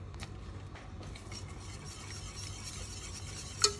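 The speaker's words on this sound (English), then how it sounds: "Whisk, whisk, whisk." A whisk stirs cheddar and mozzarella cheese sauce for mac and cheese in a pan, making soft, quiet scraping and stirring strokes up close, ending with a sharp clink.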